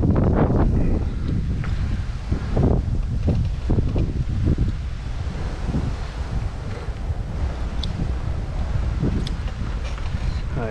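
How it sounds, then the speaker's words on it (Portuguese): Strong wind roars and buffets the microphone outdoors during a bike training ride on 20-inch rims, a constant loud rumble with gusty low thumps and faint voice-like fragments beneath it. "Olha o vento que tá."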